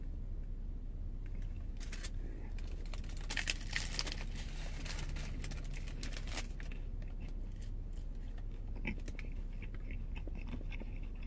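Crunchy bites and chewing of a Taco Bell vegan taco dressed with taco sauce, close and crisp with irregular crackles and wrapper crinkles, no talking over it.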